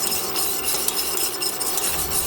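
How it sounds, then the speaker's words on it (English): A whisk scraping and stirring a blonde roux in a pan for cheese sauce, a continuous soft rasping swish with faint sizzling, close up and without speech. "Keep whisking, you don't want it to burn."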